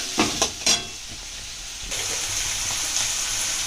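Chopped onions frying in oil in a pan for bhola fish curry, opening with several knocks of a utensil against the pan, then a steady, even sizzle that brightens and continues to the end.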